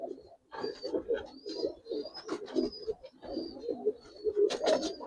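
Giribaz pigeons, including females, coo repeatedly after being released, a near run of soft, rounded coos one after another with no talking.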